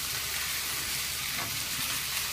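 Drumstick flowers and pumpkin flowers stir-fried in a wok give a steady, close sizzle with soft scraping stirs running throughout, and no voices.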